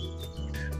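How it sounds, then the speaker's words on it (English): Faint bird chirps, short high tweets scattered over a low steady hum, quiet and distant. "you can probably hear the birds in the background."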